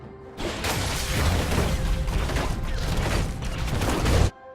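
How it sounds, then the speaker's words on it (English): Tristana's explosive charge and rapid-fire attacks in League of Legends, a dense, loud wash of mechanical clanks, booms and rattling shots that runs continuously, with a final swell just before it cuts off. "Start by tagging your target with explosive charge, hitting rapid fire after so you can charge up the bomb as quickly as possible"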